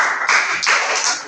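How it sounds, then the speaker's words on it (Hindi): Children clapping their hands together in a classroom counting lesson, a burst of rapid claps with loud, continuous pulses and no talk over them. "ताली बजाओ हिंदी से"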